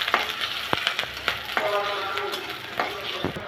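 Chopped onion and green chili frying in hot oil in a wok, a continuous close sizzle broken by scattered crackles and the scrape of stirring.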